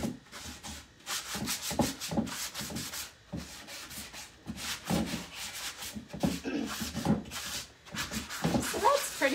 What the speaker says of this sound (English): all I'm gonna do is quickly just scrub this down, which doesn't take long at all.